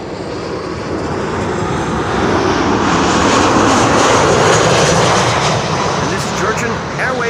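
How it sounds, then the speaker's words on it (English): A Georgian Airways jet arriving from Tbilisi lands on runway 06, the Kaagbaan, at Amsterdam Schiphol. Its loud, close jet roar swells to a peak past the midpoint and then eases slightly. "this is Georgian Airways flying in from Tbilisi"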